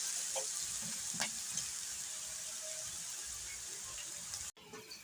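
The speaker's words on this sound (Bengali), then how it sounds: "পেঁয়াজ রসুনটা আমার ভাজা হয়ে গেছে" Chopped onion and garlic frying in a pan, a soft steady sizzle with a couple of light stirring scrapes, fairly quiet and cut off abruptly near the end.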